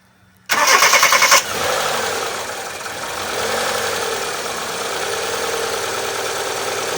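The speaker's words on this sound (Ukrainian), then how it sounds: "Запалювання увімкнули і тепер заводимо двигун." A Daewoo Sens 1.3 car engine, freshly fitted with new spark plugs and ignition leads, cranks briefly with the starter whirring, then catches and settles into a steady idle.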